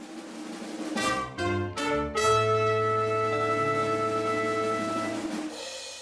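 An alternate version of the sculpture theme from the short film La il·lusió efímera, opening with a few staccato chords before a long, full sustained chord that rings on and slowly fades, without any speech.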